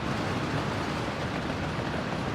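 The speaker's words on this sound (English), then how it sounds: "certainly it's got a lot of noise when it comes to like the train interacting with the track" An electric crop train rolls along the track in the Workers and Resources city-building game, a steady dense rumble of wheels on rail that is loud and continuous, with no talking.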